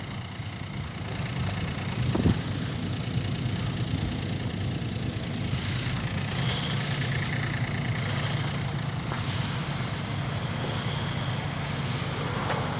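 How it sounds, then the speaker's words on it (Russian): A small Yanmar F145 three-cylinder Japanese mini tractor engine idles steadily with a low, continuous rumble and slight rattle, holding an even level throughout. "Сегодня у нас на обзоре японский мини-трактор Yanmar F145."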